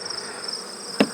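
Honey bees hum around mating nuc hives outdoors, a steady high buzz with insect drone throughout, broken by a single sharp knock near the end.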